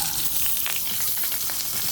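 Mustard seeds, cumin, dried red chillies, chana dal and urad dal crackle and sizzle steadily in hot oil for a tempering, a continuous close hiss with small pops throughout.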